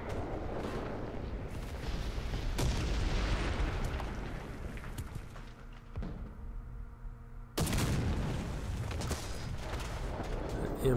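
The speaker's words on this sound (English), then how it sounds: "Oh, heard some bombs." Bombs exploding in the tank game War Thunder, a run of heavy rumbling blasts and booms, one sharp loud burst near the end, with a voice talking over the battle noise.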